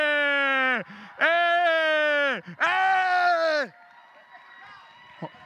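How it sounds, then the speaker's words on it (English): Young voices at a teen poetry slam finals in a theater shout and scream in three long loud bursts, followed by quieter murmuring and a brief final yelp. "Crowd scream!"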